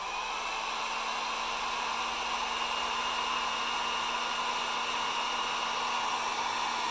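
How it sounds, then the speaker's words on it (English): A heat gun blows steadily while melting low-melt solder connectors on wiring for a 14s 48V LG lithium server-rack battery, a constant even hiss and whoosh running unbroken throughout with no talk. "Now I should be able to just use a heat gun and have that."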